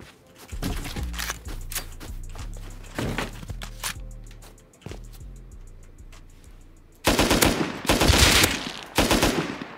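Gunfire in a survival shooter game: rapid bursts of close, sharp shots with echoing tails, followed by a louder cluster of heavier shots near the end, with no talk over them.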